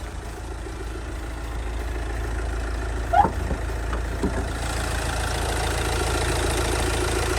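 A Kia Soul 1.6 CRDi diesel engine idles steadily under an open bonnet, a continuous even drone with a faint brief knock partway through, heard up close with no talking.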